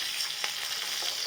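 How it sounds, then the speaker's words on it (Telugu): Rasam is poured into hot tempering of oil with asafoetida and turmeric in a pan, giving a brief, steady hiss of sizzling oil up close. "ఇప్పుడు ఈ చారుని పోపులో పోసుకుందాం."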